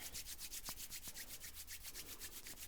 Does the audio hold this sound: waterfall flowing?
no